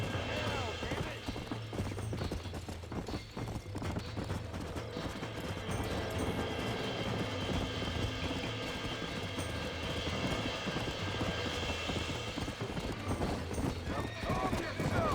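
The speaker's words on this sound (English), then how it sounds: "get back on your horse." Horse hooves clip-clop and a horse neighs in the video game Red Dead Redemption, with steady galloping and game noise under a voice talking throughout.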